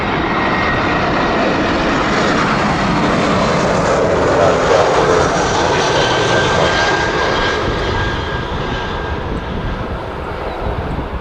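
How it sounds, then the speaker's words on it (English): An Air Canada Airbus A330-200 takes off from runway 24 right at Toronto Pearson, its engines roaring loud and steady for about eleven seconds before easing slightly as it climbs away. "Takeoff 24 right, Canada A330 200"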